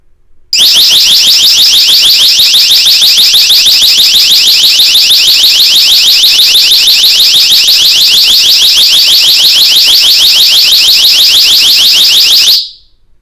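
An extremely loud, piercing alarm from a Nextorch ND30 electronic flashbang wails continuously for about twelve seconds with a rapid pulsing warble, then cuts off abruptly.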